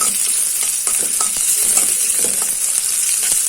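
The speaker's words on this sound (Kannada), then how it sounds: "ಈಗ ಅದೇ ಬಾಣಲಿಗೆ ಸ್ವಲ್ಪ ಎಣ್ಣೆಯನ್ನು ಸೇರಿಸಿ ನಾವು ತಗೊಂಡಿರುವಂಥ ಈರುಳ್ಳಿ ಮತ್ತು ಬೆಳ್ಳುಳ್ಳಿಯನ್ನು ಹುರಿಯುವ" Onion and garlic frying in oil in a pan over medium flame, a continuous bright sizzle with occasional stirring scrapes and taps, close and steady with no voices.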